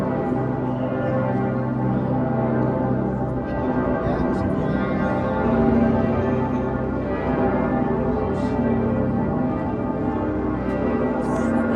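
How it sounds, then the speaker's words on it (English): Church bells in Cologne ring continuously with a dense, overlapping toll, heard from some distance amid background murmur. "The next day I went to Cologne directly via train and enjoyed the bells."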